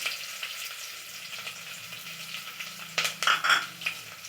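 Garlic, small onion, mustard seeds and curry leaves fry in hot oil with a soft, steady sizzle, then a louder cluster of spatula scrapes and crackles near the end, close and without talk.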